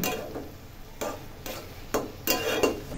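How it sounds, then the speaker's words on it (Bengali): Stirring shrimp curry in a pan with a utensil, a few distinct scraping strokes with soft sizzling between them, close and moderately loud, no talk. "হালকা একটু নাড়াচাড়া দিয়ে দিচ্ছি"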